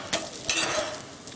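Methi leaves dosa cooking on a hot pan, giving a soft steady sizzle with a few light scraping and stirring touches, close and fairly quiet, with no voices.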